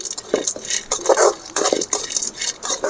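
Mixed vegetables are stirred and fried until golden in a pan for vegetable rice, with a spoon scraping and clinking against the metal in short, close, repeated strokes over a faint sizzle.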